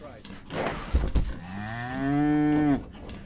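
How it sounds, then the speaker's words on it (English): A cow's long, low moo in the Return of the Obra Dinn video game, rising then holding steady before cutting off, preceded by a couple of dull thuds and some background noise. "It's a cow."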